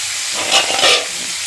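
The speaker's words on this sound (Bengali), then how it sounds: "এখন একটু ভেজে নেব" Ground turmeric, cumin and coriander fry in a hot pan for a fish curry with red amaranth stems, giving a steady close sizzling hiss that swells briefly.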